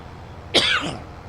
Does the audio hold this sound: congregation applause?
no